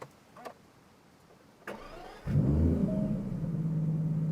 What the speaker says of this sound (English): I love the sound of V12 starting